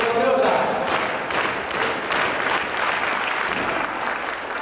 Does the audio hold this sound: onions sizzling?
no